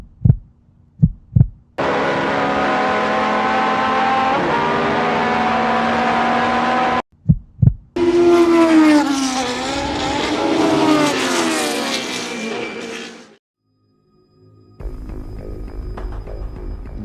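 Ligier JS4 microcar, a small licence-free car, driven on a track at full throttle: a steady buzzing engine drone, a brief lift and quick blips, then a rising, straining rev climbing in pitch before cutting off into quiet.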